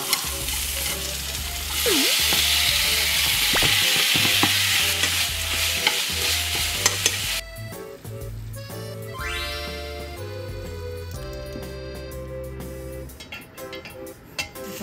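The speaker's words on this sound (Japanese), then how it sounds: "今日ビーフシチューに入れた肉の残りのステーキ肉があるからこれは普通にステーキで焼こうかな" Leftover steak meat fries in a home kitchen pan with a loud, steady sizzle for about half the time. Clattering and brighter ringing, tonal sounds then take over as the hiss fades back.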